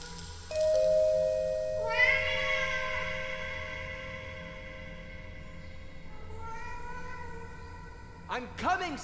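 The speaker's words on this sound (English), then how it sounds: "Your cat interrupts you, begging for food" A pet cat in a video game meows for food, several drawn-out harmonic cries close and clear over a low ambient hum, followed by a short chime near the end.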